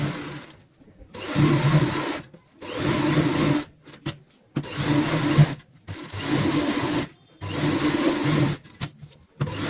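A sewing machine stitches a fabric cushion cover in five or six short, loud bursts separated by brief pauses, each run a fast, even whir of the needle.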